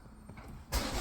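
A Volvo S60 2.5 fitted with a Landi Renzo gas conversion cranks and fires up near the end, a sudden close burst of engine noise after a quiet lead-in.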